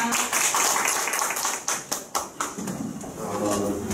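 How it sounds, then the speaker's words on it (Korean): A small audience welcomes a lecturer on mental disability rights with scattered, uneven clapping, individual claps standing out before the sound tapers off, with some room noise and faint voices. "모두 큰 박수 부탁드립니다."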